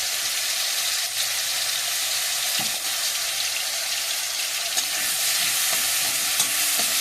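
Panch phoron and ginger-garlic paste sauté in a pan with a steady, hissing sizzle like light rain, close and even, with occasional soft stirring scrapes and no voices.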